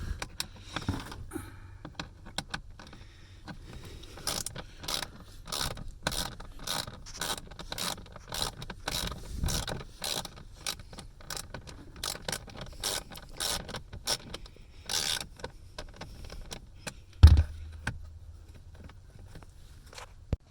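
Screws are backed out of a blower motor resistor on a 2003 Chevrolet Silverado, with a long run of close, rapid ratcheting clicks and small scraping sounds and no talk.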